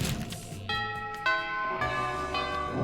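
A bell chimes in the Monster Prom video game, with four ringing tonal strikes at a steady pace, each one sustaining and overlapping the last, over a faint game background.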